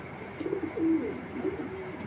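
Racing pigeons from club auction stock coo softly in a loft, a few low rolling calls close by over a quiet background.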